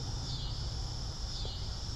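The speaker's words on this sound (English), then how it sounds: "Cicadas. They make a" Steady high-pitched insect drone of cicadas outdoors, continuous and fairly loud throughout, with a low rumbling background underneath and no pauses in the buzzing.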